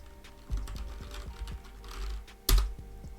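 Keys on a computer keyboard clack in a quick uneven run of taps, close and fairly quiet, ending with one harder key strike.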